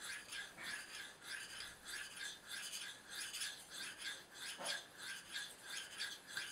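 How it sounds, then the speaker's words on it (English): A knife edge is stroked back and forth on a fine, roughly 8000-grit sharpening stone, giving a steady rhythm of close, soft rasping swipes, about two per second, with no talk. "I'm just going to go ahead and start polishing."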